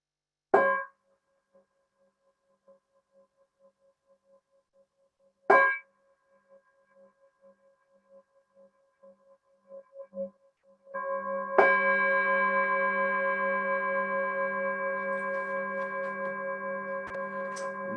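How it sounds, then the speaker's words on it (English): A meditation bell is tapped in a quiet room: two sharp strikes each fade into a thin ringing tone, then a third strike blooms into a sustained, shimmering ring that lingers to the end. "I'm going to tap a bell 3 times"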